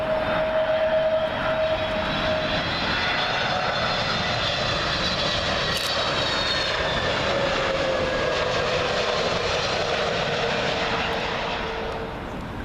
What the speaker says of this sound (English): Next up is going to be the BA Better World livery on the A320neo for British Airways